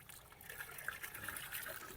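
Water flows strongly at a rural farm site, a soft continuous splashing and trickling stream, fairly faint and close, with no talk over it.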